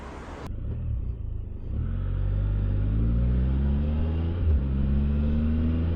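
Engine of a Can-Am Spyder three-wheeled motorcycle on the road, a steady low rumble that rises in pitch as it accelerates through gears, with wind noise, heard from the rider's position with no talk.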